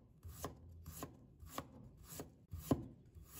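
A knife slices peeled ginger on a cutting board in five or six evenly spaced, crisp chops, close and clear over a quiet background.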